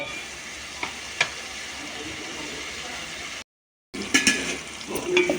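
Tomatoes fry with a steady close sizzle in a pan while being stirred, the hiss broken by a brief silent gap and a few light clinks of the spoon.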